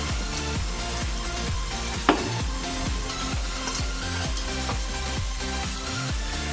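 Potato pieces fry in oil with salt and turmeric, giving a steady, close sizzle with a regular rhythmic pulse from stirring and one sharp utensil knock.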